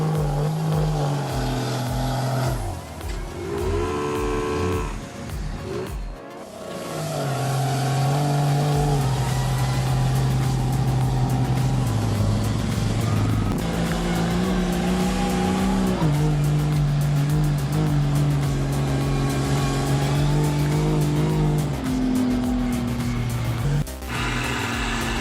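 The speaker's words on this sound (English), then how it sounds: "The engine roared, the tires spun strongly." An off-road truck churns through deep mud with its engine roaring at a sustained high rev, tires spinning and the engine pitch sagging and climbing as it fights for traction, loud and close with a brief dip midway.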